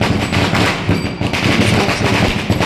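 Firecrackers burst in a dense, continuous crackling barrage during a palkhi procession at a festival, loud and close, with no clear gaps between the pops.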